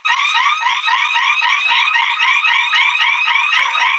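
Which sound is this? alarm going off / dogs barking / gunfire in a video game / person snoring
alarm going off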